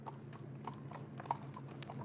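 Black stallion being ridden at a walk, steady clip-clop of hooves, close and fairly quiet, with a faint low hum underneath and no talking.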